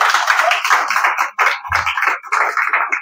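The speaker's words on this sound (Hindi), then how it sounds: "एक बार जगदेव सर के लिए जोरदार ताली पहले बजाएंगे।" Audience clapping loudly for a teacher, a dense burst of hand claps with uneven surges and a brief dip, close and lively.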